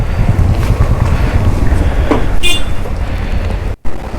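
Strong monsoon wind on a motorbike ride toward Chikkamagaluru roars hard and unbroken into the microphone as a dense low rumble, with one abrupt near-silent dropout near the end.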